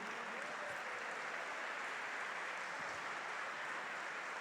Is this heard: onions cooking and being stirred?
no